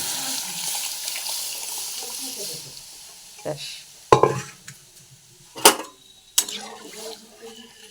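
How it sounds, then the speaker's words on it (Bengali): Spices for a dal tempering fry in hot oil with a steady, fairly loud sizzle, broken by a few sharp clinks of a utensil against the pan. "এটা একটু ভাজা হোক লালচে লালচে ভাবটা আসুক"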